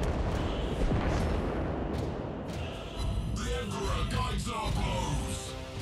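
Main guns booming from a warship in World of Warships Blitz, a dense run of heavy thuds and blasts over a loud rumbling battle din, with a voice talking over the gunfire.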